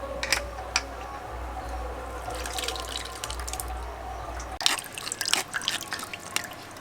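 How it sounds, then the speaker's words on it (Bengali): Lychee pulp water strained through a strainer, with soft continuous trickling and dripping close by, a steady low hum beneath that drops away partway, and a few faint clinks. "এখন এই জলটা আমি আবারও ছেঁকে নেব"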